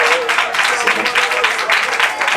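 A church congregation claps loudly and continuously during a Malayalam sermon, a dense, steady wash of applause with no pauses.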